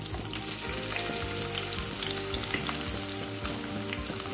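Ginger pieces cut into long strips frying in hot oil in a pan for restaurant-style chilli paneer, a steady close sizzle with faint stirring scrapes throughout and no talking.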